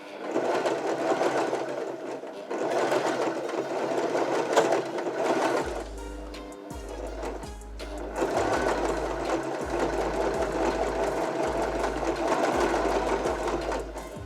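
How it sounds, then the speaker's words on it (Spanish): Janome 311 domestic sewing machine stitching a straight seam, a steady loud mechanical whir with rhythmic low thumps as the needle cycles, briefly pausing mid-run before resuming, no talking. "bajamos el prensatela y comenzamos a coser"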